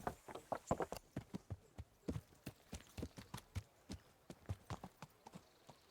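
Video game horse hooves in Kingdom Come: Deliverance clip-clop in a steady walking rhythm, many crisp distinct hits on a hard surface, quiet and close, with no speech.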